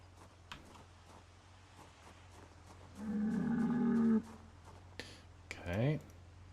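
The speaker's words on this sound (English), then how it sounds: "I hear a cow." A cow moos in the Project Zomboid Build 42 survival game, one long, loud, tonal low for about a second, followed by a shorter rising call, with scattered clicks and faint talk around it.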